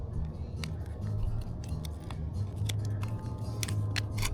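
Scissors snip repeatedly through a very sticky material while fixing Nissan Xterra off-road lamps. The crisp cuts come close and steady over a low background hum.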